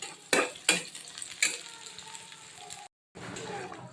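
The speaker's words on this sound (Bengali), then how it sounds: "অল্প একটু রসুন আর পেঁয়াজ একদম ভাজা ভাজা করবো" Onion and garlic frying in oil give a close sizzle, broken by a few sharp scraping or stirring knocks early on and a brief dropout near the end.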